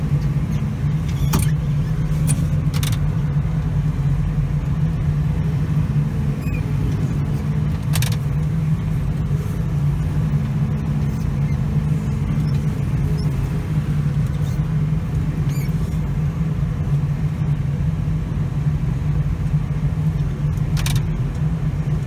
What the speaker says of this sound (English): So because I haven't got the truck running, I just mix this with the loader bucket.